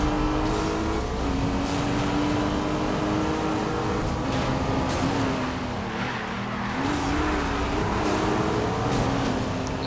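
McLaren race cars driving in the video game Need for Speed Rivals: loud, sustained engine drone with rising and falling revs and tire noise, a continuous close roar across the whole stretch.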